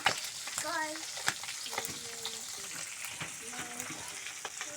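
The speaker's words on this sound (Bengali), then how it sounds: "মনির ডিম ভাজা কিন্তু হচ্ছে।" Fish roe frying in a hot pan at home, with a steady close sizzle broken by spatula clinks and stirring, and brief faint voices in the background.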